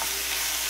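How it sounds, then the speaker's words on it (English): Onion and sun-dried tomatoes cook in a pan with a steady, close hiss of sizzling, and a brief scrape of stirring comes at the very end. "I have the onion and the sun-dried tomatoes, and they are going to be cooking for roughly 4 to 5 minutes"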